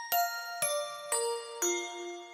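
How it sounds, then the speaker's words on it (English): Four bright chime strikes from a cartoon school bell, evenly spaced and stepping down in pitch, each ringing on with a clear sustained tone before the next one sounds. "Then, the bell rang and the class was over."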